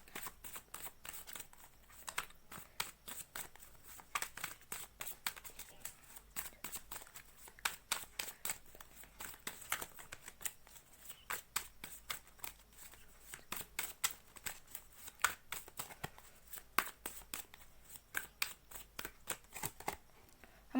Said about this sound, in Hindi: तो जब तक मैं शफल कर रही हूँ